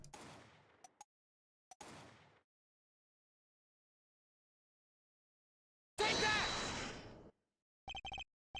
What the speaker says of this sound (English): Find the spot and I'll find the gunshots.